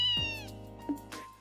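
A cat named Antoine meows in the video game Trails in the Sky, one short, clear, close game-voice meow with a falling pitch, followed by a brief softer chirp, with no talking over it.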